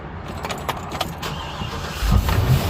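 Forest River Sunseeker RV engine starting after a battery jump: faint clicks and a jangle, then a low rumbling engine catch that swells and keeps running near the end.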